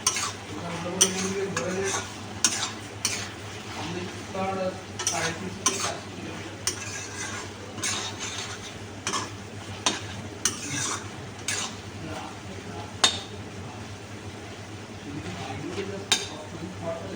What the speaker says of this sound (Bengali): এবার কষাতে কষাতে আস্তে আস্তে মাংসটা সেদ্ধ হয়ে যাবে।